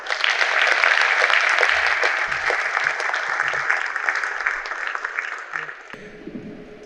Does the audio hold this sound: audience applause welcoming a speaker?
yes